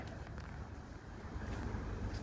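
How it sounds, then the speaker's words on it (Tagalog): Low, rumbling cold wind buffets the microphone continuously, a broad blustery roar with no voices. "Weather mahangin. Yan, malamig na mahangin."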